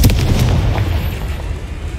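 The Confringo fire spell in Hogwarts Legacy bursts in a loud, heavy explosion with a deep booming rumble that rolls and fades over a couple of seconds.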